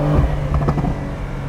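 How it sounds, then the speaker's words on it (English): A Porsche 911 Targa with dual exhaust in Sport mode gives a short burst of engine rumble with a few sharp crackling pops, close and loud, lasting only a moment. "And then I got dual exhaust, and then in Sport, I get a little bit of backfires."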